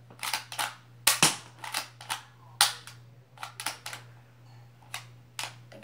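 Several sharp snapping shots from a Nerf-style Colt M1911 toy pistol, irregularly spaced and close, with mechanical clacks of cocking and loading between them over a steady low hum.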